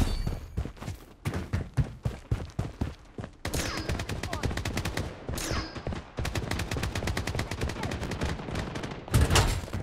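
Gunfire in the battle royale shooter Blood Strike crackles in rapid, repeated bursts of sharp shots over nearly ten seconds. The shots are loud and close, with brief pauses between volleys.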